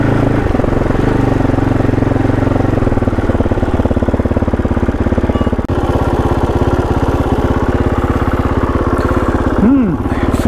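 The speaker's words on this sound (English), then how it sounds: "Let's go up here and keep the engine going." A KOVE 450 Rally adventure motorcycle engine runs steadily and close, a loud continuous throb with a brief drop near the middle and a short rising whine near the end, with a voice talking over it at times.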